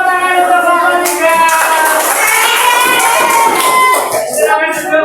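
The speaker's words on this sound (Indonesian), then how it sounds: "tepuk tangan untuk kelompok 3" Classroom applause for a student group, loud, dense clapping from many hands sustained for several seconds and tapering near the end, with tonal voices mixed in.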